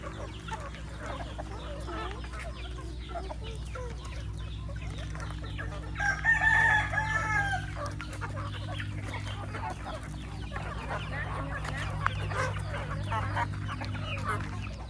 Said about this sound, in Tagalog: Ito mga manok namin dito sa umaga